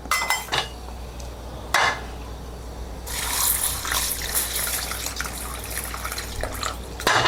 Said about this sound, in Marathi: त्याच्यासाठी मी आधी या दोन्ही डाळी आहेत त्या धुवून घेते